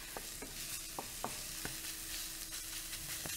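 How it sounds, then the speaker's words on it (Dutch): Garlic frying in a pan: a steady, close sizzle with a spoon or spatula scraping and stirring in quick irregular strokes, no talking. "Bakken totdat knoflook gewoon een beetje bruinig wordt en dan lekker ruikt."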